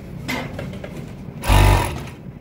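An overlock sewing machine stitching cotton boxer fabric gives a short whirring burst, louder near the end, after softer handling noises and with no speech.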